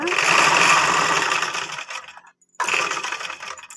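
A sewing machine stitches a blouse, running steadily and close up, then stopping briefly for about half a second before starting again at a slower, even pace.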